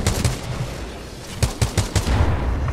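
Rapid gunfire from the video game Titanfall 2 crackles in sharp repeated bursts, with several distinct close shots clustered toward the end over a busy game background.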